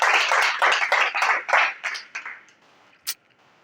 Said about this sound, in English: You gonna give her a round of applause or what?